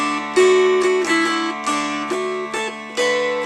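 A mountain dulcimer picks out a waltz melody line, one plucked note after another over a sustained drone, clear and close with no voices.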